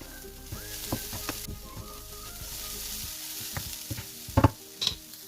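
Salt being stirred into sizzling samosa filling in a hot pan, with steady frying hiss and scattered spoon scrapes and taps, a louder clatter of strokes near the end.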